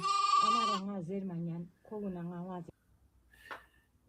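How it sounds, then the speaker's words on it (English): Young lambs bleat in several wavering, high cries close by, followed by a soft clatter and quiet. "these are little baby sheep"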